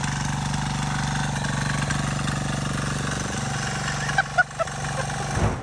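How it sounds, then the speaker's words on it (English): Small diesel engine on a tracked all-terrain mountain board runs with a steady, loud chugging rumble close by, then a few sharp knocks before it cuts out near the end. "this diesel engine is heavy, it's loud, and it didn't last very long"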